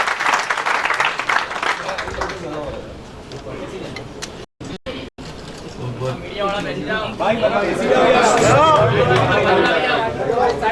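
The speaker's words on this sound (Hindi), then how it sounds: "कृपया जोरदार तालियों से माननीय मंत्री महोदय का स्वागत करें" A crowd applauds to welcome a minister at an inaugural function in Surat, India: steady, dense clapping mixed with chatter and a voice over a loudspeaker, swelling louder toward the end.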